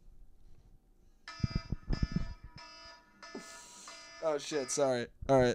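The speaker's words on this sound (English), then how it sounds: "that's the alarm for the first part." An electronic alarm goes off in a few sustained, buzzing bursts, followed closely by someone talking.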